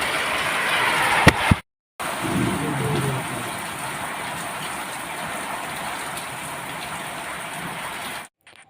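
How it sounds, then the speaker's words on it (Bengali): Steady rain pouring down, a dense even hiss close by that runs on without letting up, briefly cut off near the start. "এই যে বৃষ্টি শুরু হয়েছে কখন থামবে তার ঠিক নেই"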